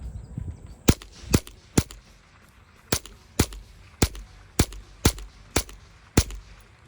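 Sharp outdoor gunshots fired one at a time, about ten in all at a steady pace of roughly two per second, each loud and clear against quiet background.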